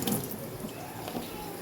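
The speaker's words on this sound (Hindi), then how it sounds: "तो ये रही ग्रीन चिली, हम वॉश कर देते हैं।" Green chillies rinsed under a running kitchen tap, a steady close hiss and splash of flowing water with soft spatter as the water hits the chillies and sink, no talking.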